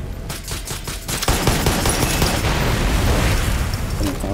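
Gunfire in the video game Far Cry 6 starts with a few separate shots, then swells into a loud, dense burst of rapid fire and booming explosions that continues to the end.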